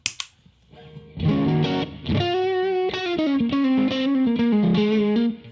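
Electric guitar played through a Carl Martin Andy Timmons compressor pedal with the level cranked to boost the amp, sustained distorted chords and single notes ringing loud and close after a brief pick attack.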